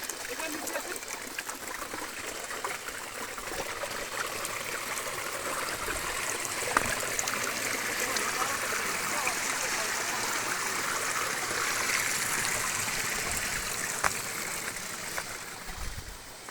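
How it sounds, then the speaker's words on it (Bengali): A waterfall-fed stream flowing beneath a large hill in Bandarban; a steady, broadband rushing of water fills the whole stretch, fairly close and unbroken. "পুরো পাহাড়ের বড় পাহাড়ের নিচ দিয়ে যে ঝর্ণাটা বয়ে গেছে সেখান দিয়ে যাইতেছি"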